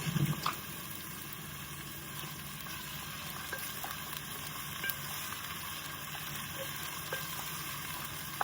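Onions with dried red chillies and bay leaves fry steadily in a pan for kalika mutton, giving a low, even sizzle that holds for the whole stretch with small crackles and no voices.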